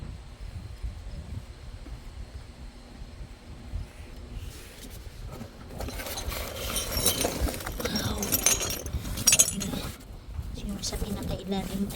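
Glassware clinks and rattles as it is dug out of a dumpster, light chinking and shuffling that grows busier and louder partway through, with a person talking over it.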